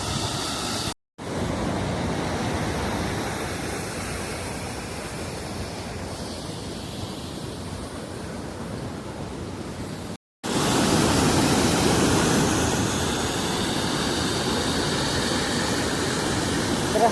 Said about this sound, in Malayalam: ഭയങ്കര ഫോഴ്സിലാണ് ഇവിടെ വെള്ളം വീഴും